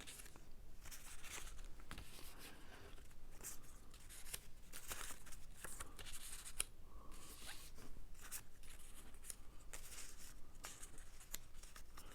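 Scissors cutting paper letters for a birthday card craft, faint repeated snips and rustles of paper at close range, with no talking.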